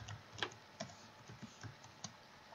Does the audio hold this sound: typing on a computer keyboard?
yes